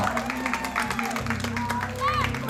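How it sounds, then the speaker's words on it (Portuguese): Guests at a child's birthday party give a round of applause, clapping mixed with crowd chatter and cheering, with music playing underneath and voices talking over it. "Uma salva de palmas, galera!"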